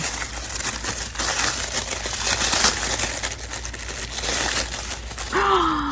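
Close, busy crinkling and rustling of a small wrapped packet being opened, holding a needle minder, with steady papery crackles throughout and a short vocal exclamation near the end.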